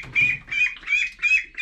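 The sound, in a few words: duck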